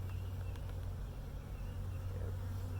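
Honey bees buzz steadily around an opened hive as burr comb is scraped away, a close continuous drone with a low hum underneath and occasional nearer passes.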